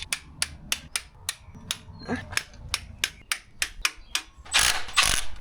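Ratchet torque wrench tightening bolts to 45 newton metres on a Land Rover under restoration, a close run of evenly spaced sharp metallic clicks followed by a couple of louder clattering bursts.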